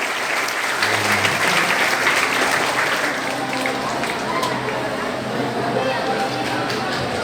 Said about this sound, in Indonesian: Tepuk tangan untuk Ibu Bupati Indramayu biar nambah semangat kita.